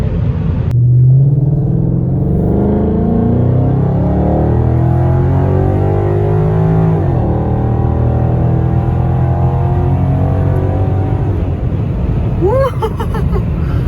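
A Ford Mustang GT Premium 5.0 V8 with 420 horsepower roars and climbs in pitch as it accelerates, deep and rumbling up close, easing briefly before revving again, with no speech.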